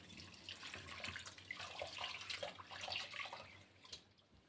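Water runs from a tap onto a squeezed lemon in a kitchen while lemon juice is made, giving a steady, faint splashing stream with a few brighter drips.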